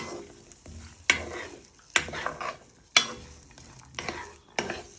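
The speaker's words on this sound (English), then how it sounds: "And you want to start frying these." Onion, garlic, ginger and chillies sizzle in a hot wok while a utensil scrapes and stirs in several sharp strokes, close by, no talking.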